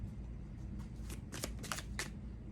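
Cards drawn from a tarot deck, a few quick papery slides and flicks close by, soft and brief over a low background hum.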